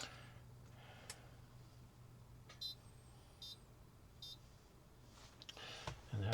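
A food bag sealer signals the end of its sealing cycle with three short, high electronic beeps spaced about a second apart, quiet and close over a steady low hum, with no talk.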